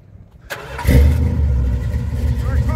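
A 1966 Plymouth Belvedere with 48,000 original miles cranks briefly and catches, then settles into a loud, steady, rumbling idle close by.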